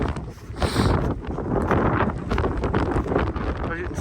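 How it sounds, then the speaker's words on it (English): Steady wind rushes and buffets against the microphone during UK winter wild camping, a continuous, fairly loud blustery roar with a person talking over it. "It's a bit less windy here."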